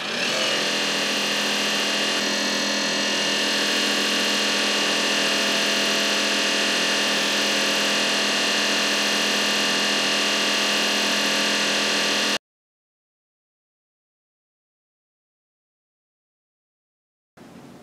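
A Tormach 8L lathe spins a long bar at 2,500 RPM, giving a loud, steady mechanical whine with a constant hum for about twelve seconds before it cuts off abruptly to silence.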